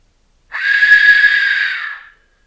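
A homemade Aztec death whistle with its tube pushed into position gives one sustained, loud, shrill whistle of about one and a half seconds, with a rough airy hiss over it. It fades out at the end, and nothing else is heard.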